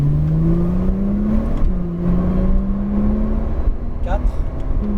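A Porsche 911 Turbo S engine pulls hard on a race circuit and climbs in pitch through gear changes, loud from inside the car, with a voice speaking briefly over it.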